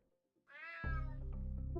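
A cat lets out a single drawn-out meow, rising then sliding lower, close and clear against a quiet background, heard in a Metal Gear parody.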